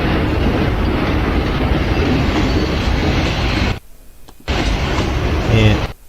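A train rumbles along the rails in film footage, loud and continuous with clattering wheels, cut off abruptly by a brief silence before resuming, with faint voices mixed in.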